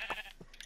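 A blocky Minecraft sheep bleats, a short nasal call that quickly trails off, faint and close, followed by a couple of soft game clicks.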